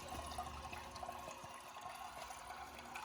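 A 2012 VitrA Evergreen toilet refills with water, giving a quiet, steady trickle and hiss under a low background hum.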